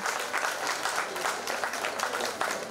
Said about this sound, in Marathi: जोरदार टाळ्या बाजून आपण विजेताईंचं अभिनंदन करूया